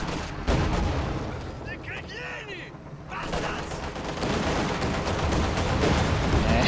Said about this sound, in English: And there's the anti-tank strafe.